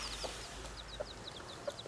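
Soft, scattered clucks and chirps from several chickens shut in their coop, fairly quiet and close, over a low background hum.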